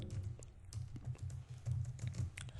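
Rapid, light keystrokes on a computer keyboard as code is typed, a quick irregular patter of close taps with no talking.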